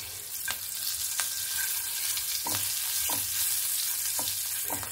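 Asafoetida and chopped green chili fry in hot oil for a Bengali kachuri filling, giving a steady close sizzle with a few sharp pops and crackles spread through it, and no voices.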